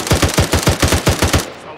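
Rapid automatic gunfire in the military shooter game Arma 3, a fast burst of about nine evenly spaced loud shots that stop abruptly, close and punchy.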